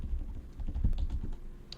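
Someone types on a computer keyboard, soft irregular key clicks pattering in the background over a low hum, with no voices during the stretch.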